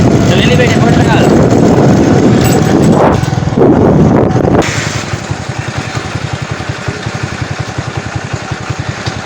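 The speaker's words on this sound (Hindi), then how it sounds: "चले बेटे मोटरसाइकिल" A motorcycle engine runs steadily and fairly loud beneath heavy wind buffeting while someone rides. Voices talk over the engine throughout.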